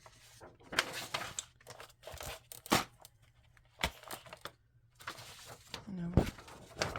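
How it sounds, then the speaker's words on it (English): Paper from a doodle book being cut on a paper trimmer, a series of sharp slicing and sliding bursts with crinkling and handling noises, close and irregular, with speech in between. "No, watching me trim paper"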